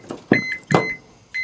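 A kitchen thermometer's low-temperature alarm, used while cooking brisket, beeps in short electronic tones, four close bursts in quick succession with faint clatter between them.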